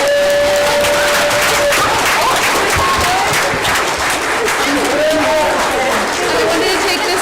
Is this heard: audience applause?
yes